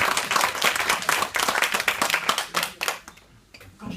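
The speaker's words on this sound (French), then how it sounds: "J'ai besoin d'applaudissements aussi comme vous." Audience applause at a stand-up comedy show, dense clapping from a crowd that carries steadily for about three seconds before thinning out to a few scattered claps.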